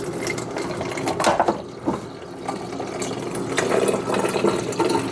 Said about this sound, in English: We're going to give that a quadruple rinse. Maybe fill it up with that distilled water over there